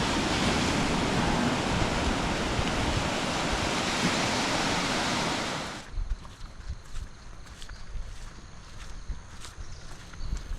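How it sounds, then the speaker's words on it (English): A steady, loud wash of surf on the beach at Ganeshgule fills the first half, then cuts to quieter open-air ambience with scattered knocks. "it has a direct private entry to the beach over here"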